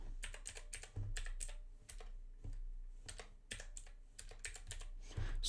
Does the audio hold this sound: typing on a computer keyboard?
yes